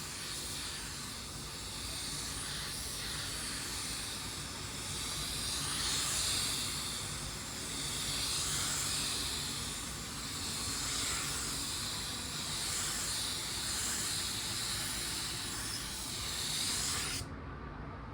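A spray gun lays a slow, low-pressure drop coat of silver paint on a car panel, giving a close, continuous hiss that swells and eases slightly before cutting off abruptly at the end.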